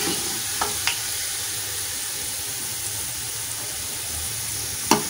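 Onions frying golden in a pot of oil for chana aloo biryani make a constant steady sizzle, with a few sharp utensil taps standing out, one near the end louder than the rest.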